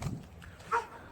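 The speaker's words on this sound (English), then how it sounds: "there's a dog barking at me right now" A single short, faint dog bark comes from some distance in a quiet residential neighborhood.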